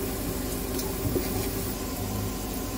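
Chopped green chilies sizzle in a pan during poha preparation, giving a steady, even hiss with no pauses and no voices.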